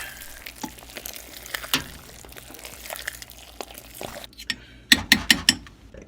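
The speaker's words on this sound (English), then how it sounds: "Stir it around real good" Cheesy ramen noodles being stirred with a fork, giving a busy, continuous moist clatter of scraping and squishing, closing with a short run of louder sharp clicks near the end.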